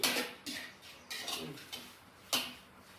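Fresh grasshoppers are stir-roasted in a pan: sparse, close scraping and clinking of a utensil against the pan, a few separate strikes with quiet gaps between them.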